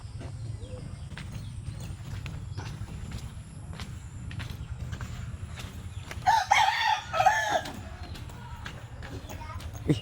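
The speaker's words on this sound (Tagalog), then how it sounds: "Manok." A rooster crows near rice paddies during planting, one loud, drawn-out call rising midway over a low background rumble and faint ambient noise.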